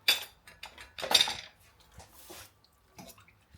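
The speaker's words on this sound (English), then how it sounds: "Now we're gonna mix it up." A spoon stirs tofu and bok choy soup with sriracha in a pot, making a few light metallic clinks and scrapes with soft liquid sloshing in short, irregular strokes.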